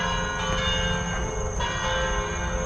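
Tower bells at a memorial garden in Trinity, Florida, chime continuously, their layered tones hanging in the air with a renewed strike partway through, steady and moderately loud with no voices.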